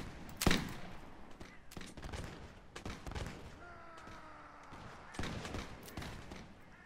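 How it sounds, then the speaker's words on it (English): In a Napoleonic-era Mount & Blade battle, scattered musket shots and heavier artillery booms crack at varying distances, including one sharp nearby report among looser, fainter volleys. "French artillery."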